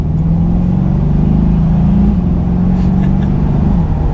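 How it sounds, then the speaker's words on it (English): A 2021 Chevrolet Corvette Stingray C8 convertible with the top up accelerates gently in automatic mode, its engine a steady rising drone with a smooth gear change heard from inside the cabin, with no talking. "So then getting back up to some speed in the automatic mode, get a little bit of gas."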